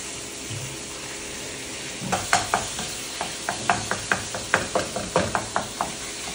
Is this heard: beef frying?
yes